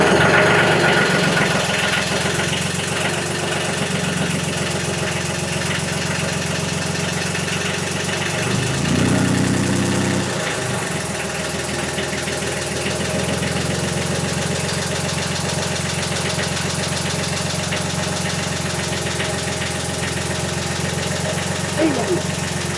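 An engine idling steadily while it warms up after maintenance, a loud continuous droning rumble with a faint knocking vibration, running nearby throughout without pause.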